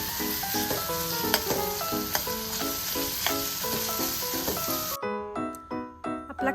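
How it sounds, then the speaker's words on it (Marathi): Chopped onion and ginger-garlic paste sauté in hot oil with a steady, close sizzle that fills most of the clip, then thins into a sparser crackle near the end; no one speaks. "त्यात आता बारीक चिरलेला कांदा परतून घेणार आहे"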